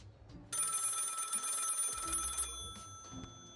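A telephone rings in a video game, one long electronic bell burst that starts abruptly and cuts off after about two seconds, followed by faint soft bumps in an otherwise quiet scene.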